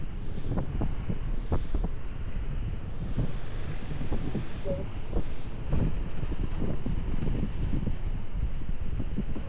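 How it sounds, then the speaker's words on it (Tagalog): Strong wind gusts on Mount Pulag batter the microphone with a continuous roaring rumble that swells and dips, loud and close, with no talking. "Lakas ang hangin."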